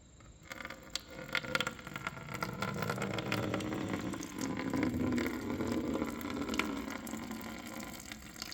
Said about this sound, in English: Slowly pour this off.